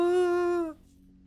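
A dog in the video game Werewolf: The Apocalypse - Earthblood lets out a single clear, tonal whine or howl lasting under a second, loud and close, then it cuts off to a faint background hum.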